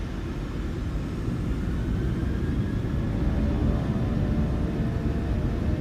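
Jet engines of a PMDG 737-800 airliner at takeoff thrust in Microsoft Flight Simulator 2020, a loud, steady broadband roar with deep rumble and a faint high whine, continuous and slowly swelling.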